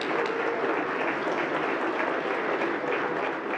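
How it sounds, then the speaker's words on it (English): Continuous audience applause at a broadcasters hall of fame ceremony, a steady full-room clapping without breaks. "We all owe them a round of applause."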